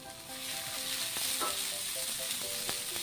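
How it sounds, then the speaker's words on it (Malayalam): Grated coconut fries in coconut oil for a Kerala-style snake gourd theeyal, a soft, even sizzle with faint scraping and stirring scrapes running through. "തേങ്ങ ഒന്ന് മൂത്ത് വരട്ടെ."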